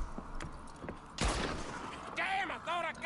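A single sharp gunshot rings out in Red Dead Redemption 2 during a hunt, loud and close, followed by a fading tail, with a few softer knocks before it and a voice talking afterward.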